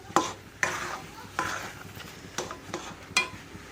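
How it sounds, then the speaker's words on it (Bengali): A spoon stirs thickened milk in a pot while cooking kheer for patishapta, giving about six spaced scraping strokes against the pot over a soft background hiss, with no talking. "আর একটু নাড়িয়ে মিক্স করে নিচ্ছি"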